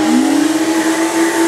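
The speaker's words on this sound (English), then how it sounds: "turn both pumps on" A Clean Core Caddy carpet cleaner runs both its pumps with a steady, loud motor hum and a constant whine, without pause.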